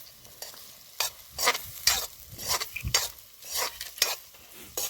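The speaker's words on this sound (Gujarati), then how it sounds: "હાલ મિત્રો બટેટા નાખી દીધા છે આમાં" Potatoes frying for batata poha in an outdoor pan, stirred with a utensil in repeated scraping strokes over a steady sizzle, close and fairly loud.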